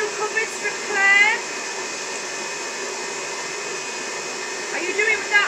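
An electric mixer fitted with a whisk whips cake cream for a flamingo-themed cake, a loud continuous whirring drone running steadily throughout, with brief voices talking over it at the start and end.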